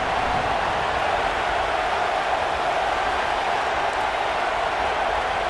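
A dense, steady roar from a football stadium crowd at an Army versus Florida game, loud and unbroken throughout with no distinct individual voices standing out.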